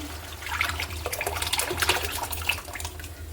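Thick cooked lentils pour and splash into a pan of hot tempering, a continuous wet glugging with a low hum underneath, close by.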